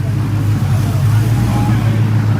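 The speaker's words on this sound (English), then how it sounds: "Oh, and listen to that engine rumble." Ford Mustang GT with the 5.0 Coyote V8 making about 550 horsepower naturally aspirated, a deep continuous low rumble on a dyno, steady and loud throughout.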